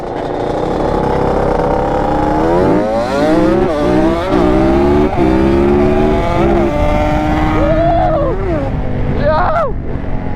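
A 450 dirt bike and a modded, built Yamaha Banshee ATV race from a rolling start, two engines revving hard and shifting through rising and falling pitch sweeps, loud and close throughout.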